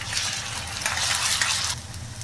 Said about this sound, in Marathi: आलं लसूण पेस्ट 1 चमचा परतून घेऊयात.